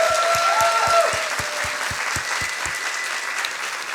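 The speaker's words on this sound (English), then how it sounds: "So a big applause for everybody of us." Applause from a live audience at a science slam, steady dense clapping at close-to-moderate distance with a rhythmic series of sharper claps running through the first part, no voices over it.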